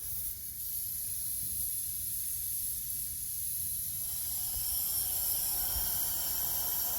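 Regulated shop air at about 10 psi hisses steadily through an aircraft fuel selector valve, a continuous close broadband rush with no break or voices.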